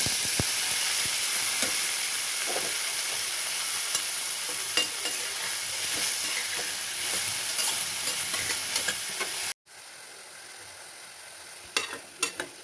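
Hot mustard oil sizzles in a heated wok with a continuous loud frying hiss and occasional stirring clicks, briefly dropping out before the sizzle resumes more quietly.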